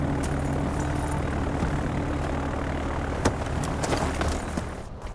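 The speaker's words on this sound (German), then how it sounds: "Die in dem Flieger, den gerade abhebt." A plane taking off in Far Cry 4, its engine a steady, loud propeller drone that holds for the whole span and cuts off sharply at the end, with no talk.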